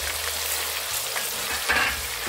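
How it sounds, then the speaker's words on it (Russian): Chicken thighs fry in a covered pan while cooking a quick plov, a steady close sizzle with faint stirring scrapes and crackles throughout. "Жарить их недолго."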